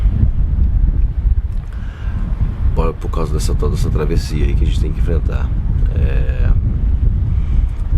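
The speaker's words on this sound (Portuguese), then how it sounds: "a ancoragem que a gente tá aqui não para o vento, é 20, 30 nós o dia inteiro" Strong, steady wind of 20 to 30 knots gusts across a sailboat at anchor, roaring and buffeting close to the microphone while someone speaks over it.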